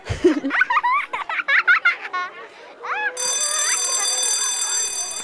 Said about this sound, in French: Oh, la sonnerie!